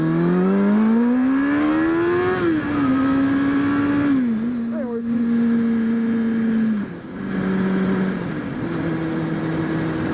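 A motorcycle engine drones steadily while riding, its pitch rising and dipping with throttle changes, loud and close throughout.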